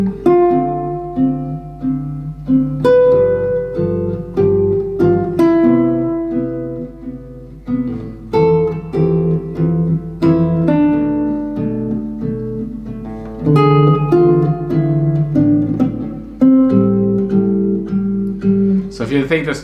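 Guitar chord melody played with chord tones, a solo instrument plucking clear chords and melody notes in a relaxed, even rhythm with short pauses between phrases, close and distinct.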